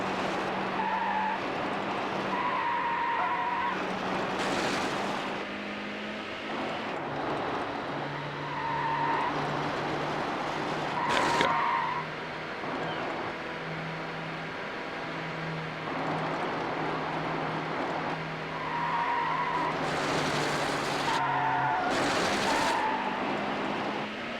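Tires skid and squeal as cars race in Need for Speed Hot Pursuit 2, repeated squeals over a continuous engine drone, with occasional louder bursts through the corners.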